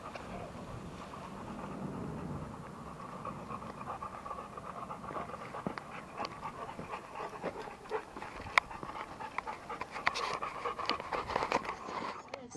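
A molosser-type dog pants steadily during play, quick rhythmic breaths up close over a wash of wind noise on the microphone, with a few sharper clicks and rustles.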